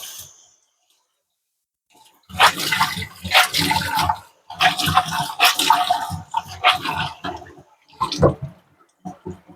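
A rag rinsed and wrung under running water in a home kitchen: bursts of splashing, gushing water in irregular spurts, with short pauses and a final brief splash.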